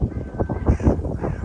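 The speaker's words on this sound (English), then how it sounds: "Wow, man, look at the crows." Crows caw in open countryside, a flock of rough, throaty calls overlapping in quick irregular bursts, fairly close and loud against a noisy outdoor background.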